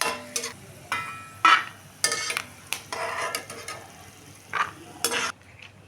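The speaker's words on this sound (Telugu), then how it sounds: "ఇప్పుడు ఎండుమిరపకాయలు పచ్చిమిర్చి ఉల్లిపాయలు వేసేసుకున్నాం" Dried red chillies, green chillies and onions frying in a pan for tomato rice, with bursts of sizzling and scraping stirs of a spoon against the pan, close by, separated by brief quieter gaps.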